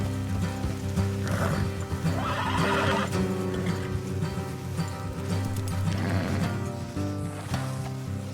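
Horses whinny and snort close by while hooves clop steadily in the video game Red Dead Redemption 2, with a low background rumble and no clear talk.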